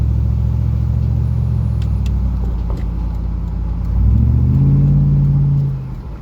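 A Buick Rainier fitted with a custom Flowmaster exhaust drives along, its deep exhaust rumble heard from inside the cabin, swelling as it accelerates near the end before easing off.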